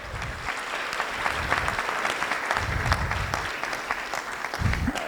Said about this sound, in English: So let's give Judy and her team a big round of applause.